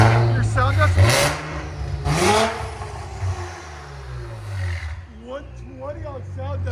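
Infiniti Q60 3.0L twin-turbo V6 with an aftermarket exhaust, valves open, revving hard in repeated loud blips that rise and fall. The car sits close by and people talk over the engine.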